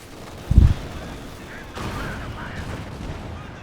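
Units trade gunfire in the video game Company of Heroes 2, with one sharp, loud shot followed by a softer, rumbling battle bed and scattered distant reports.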